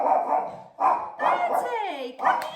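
A dog named Bertie, let out in a garden, barks and yips in several close, loud bursts with a whiny, whimpering tone between them.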